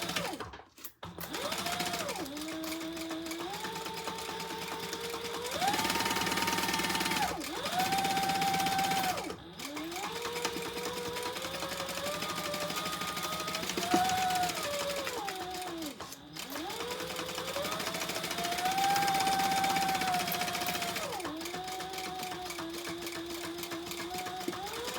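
Sewing machine basting leather, a steady close mechanical whir and rapid stitching hum that rises and falls in speed across several runs, with brief pauses between passes.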